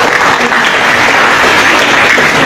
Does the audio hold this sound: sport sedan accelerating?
no